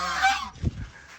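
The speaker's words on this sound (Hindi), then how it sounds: "ये देखो 1 मुर्गा है, 5 मुर्गियां वो, 1 गुंडी मुर्गी।" Aseel chickens, a rooster with hens, give a brief harsh squawking call followed by a lower, throaty cluck, heard close and fairly loud in a quick burst without talking.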